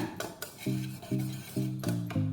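Flour, salt and sugar stirred together in a bowl: about five rhythmic scraping strokes, each a short ringing scrape against the bowl, close and clear with no talking.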